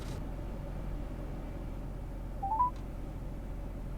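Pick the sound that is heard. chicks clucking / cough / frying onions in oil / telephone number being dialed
telephone number being dialed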